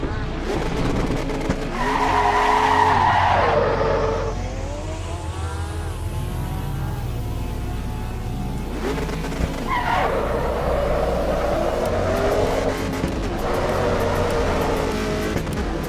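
Race car in Assetto Corsa EVO pulling out of the pit lane, engine revving up through rising gear sweeps, tires squealing, steady loud drone with pitch climbing, dropping and climbing again through shifts.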